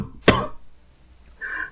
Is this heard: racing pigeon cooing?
no